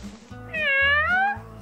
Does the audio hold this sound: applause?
no